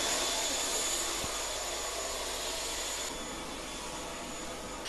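A CASA C295MW military transport aircraft holds a steady, loud broadband engine roar throughout, with one brief low thump early on and no other sounds.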